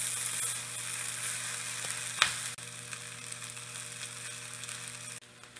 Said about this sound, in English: when you're done sauteing your vegetables and after adding your rice into your vegetables in your wok